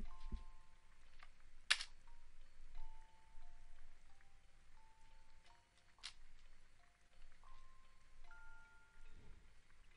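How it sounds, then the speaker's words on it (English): Rain in the video game Elona falls as a faint, steady patter, mixed with scattered clicking and soft electronic tones from the game, with no talking. "It's raining, too."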